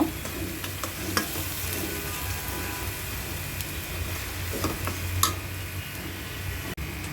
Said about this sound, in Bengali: পেঁয়াজ আদা রসুন বাটা কাঁচামরিচ বাটা সব ভালো করে তেলের মধ্যে কষিয়ে নিলাম।